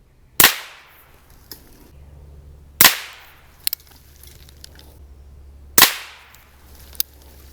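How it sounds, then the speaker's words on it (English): Three sharp supersonic rifle shots fired through a Sparrow suppressor, each a loud close crack with a quick decaying tail, spaced a few seconds apart, with faint clicks between them. "I'll be doing 3 rounds. Again, this is the supersonic, so there will be a sonic crack of some sort."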